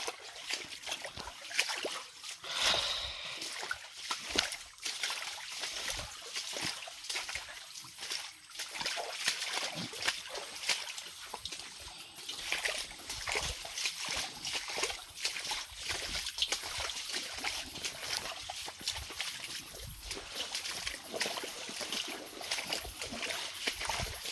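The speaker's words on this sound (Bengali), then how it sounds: "ঝর্নার আমরা শব্দ শুনছি" A small green waterfall that drops in five steps, flowing steadily: a constant bright rush and splash of water holds at a moderate level from start to end, with no speech over it.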